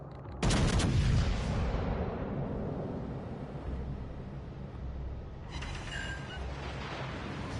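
A warship's guns firing in the naval game World of Warships Legends, with one loud booming salvo followed by a long rumbling decay, then lighter mechanical rattling later, no voices.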